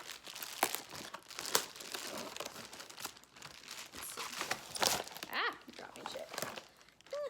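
A foil medication packet is crinkled and torn open up close, with bursts of crackling and tearing under intermittent talk.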